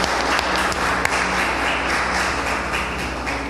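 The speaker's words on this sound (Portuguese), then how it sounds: "Você pode aplaudir ao Senhor nessa noite?" A church congregation at an evening service applauds together, a thick, continuous roar of clapping hands that stays loud and even for a few seconds, with no voices over it.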